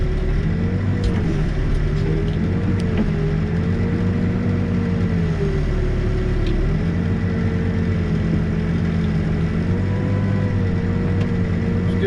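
A backhoe digs a block footing at a school site, its diesel engine running as a steady, loud, close drone with slight shifts in pitch throughout and no talking.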